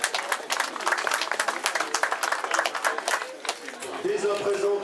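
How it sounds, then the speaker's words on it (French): A crowd applauds a winner at the Kreiz Breizh Elites 2013 cycling race stage, a steady patter of many clapping hands, with a voice speaking over it near the end. "De nouveaux applaudissements qui lui sont destinés"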